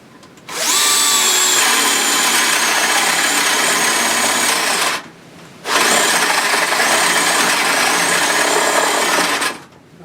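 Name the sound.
drill boring holes in wood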